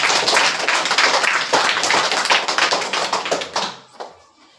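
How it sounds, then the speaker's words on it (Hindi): A class of seventh-grade students claps loudly and energetically together in a classroom, dense overlapping claps that slow into a few final claps and then stop. "जोरदार ताली"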